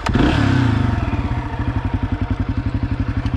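A Honda CRF250F trail motorcycle engine runs close by, rising in a brief rev before settling into a steady, rhythmic, thumping idle-like chug.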